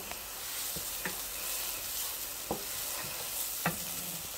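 Meatballs sautéing in a pan with a steady sizzle, broken by several sharp clicks and scrapes of stirring at irregular intervals, close and alone without talk.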